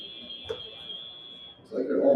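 A long, steady electronic buzzer tone sounds across a robotics competition match at a league meet, holding for over a second before cutting off as crowd noise rises.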